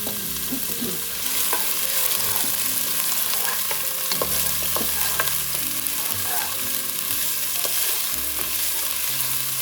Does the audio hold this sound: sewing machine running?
no